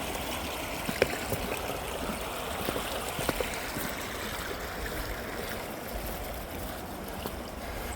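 A stream flows under a track beside an old mill and comes out on the other side to help feed a pond, giving a steady, moderately close rushing trickle of water throughout with a couple of faint clicks.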